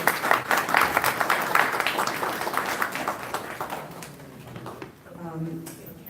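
Audience applause for a final speaker at a university event, a burst of clapping that fades over a few seconds before a voice takes over.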